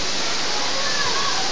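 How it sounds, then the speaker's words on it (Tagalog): Pagsanhan Twin Falls, a waterfall pouring in a steady, loud, broadband roar that fills the whole moment without pause. "Tsaka Pagsanhan Falls daw, magkadugtong"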